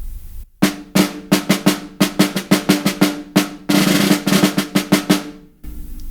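A concert snare drum plays a rhythmic all-state audition excerpt with crisp single strokes mixed with buzz strokes and a longer sustained buzz roll near the middle, close and loud with no talking.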